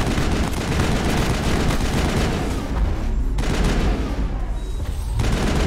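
Sustained automatic gunfire from the Mass Effect video game roars without break, a dense, loud barrage that dips briefly twice before resuming.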